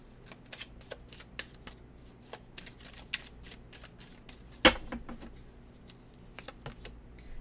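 A deck of cards shuffled for a tarot-style reading, a run of quick close riffling flicks and soft slaps at an irregular pace, with one sharper snap partway through and no talk.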